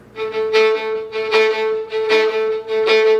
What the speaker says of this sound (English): then you want to emphasize the 2 and the 4